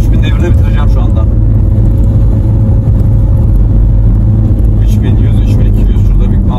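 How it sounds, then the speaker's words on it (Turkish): Car engine held in first gear near 3000 rpm while climbing a short hill under manual control, a steady loud low drone filling the whole stretch, with someone talking over it. "Birinci vitesteyim. 3000 devirdeyim. Bu yokuşu 3000 devirde bitireceğim şu anda."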